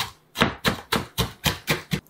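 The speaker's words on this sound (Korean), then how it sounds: "홍고추와 청양고추 썬 다음에 이렇게 곱게 다져주세요" A knife finely minces red and cheongyang chili peppers on a board, seven crisp, evenly spaced chops in quick succession, close and clear.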